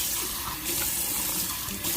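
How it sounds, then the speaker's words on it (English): Water pours steadily into a rock tumbler barrel filled with rocks, a continuous close splashing rush lasting about two seconds with no talk. "and then you fill it with water just so it covers the rocks"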